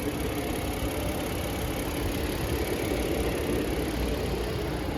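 A 2023 Honda Pilot SUV's new engine idles with the hood open, giving a steady, close, broadband hum and rumble with no change in pitch.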